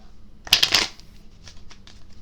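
Angel cards being shuffled by hand: one quick, crisp riffle burst up close, followed by a few softer flicks and taps as the deck settles.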